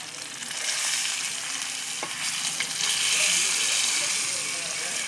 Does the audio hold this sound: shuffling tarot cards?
no